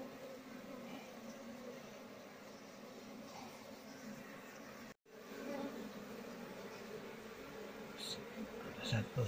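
Apis cerana honey bees hum as a steady, fairly quiet swarm drone while their comb is moved into a hive box in the morning, continuing almost unbroken except for a brief gap midway.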